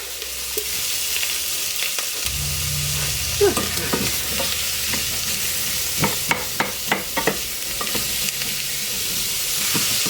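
Coarsely chopped Spanish onion dropped into a hot pan, a loud steady sizzle that surges as the onion goes in, followed by a series of clacking stirs against the pan.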